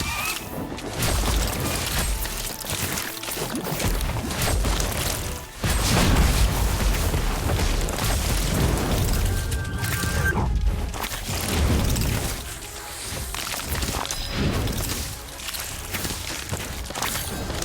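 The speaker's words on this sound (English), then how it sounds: "Thunderstorm!" A Thunderstorm spell in the Harry Potter: Magic Awakened video game unleashes a dense, continuous barrage of crashing booms and cracks, with loud impacts and brief dips, lasting nearly eighteen seconds.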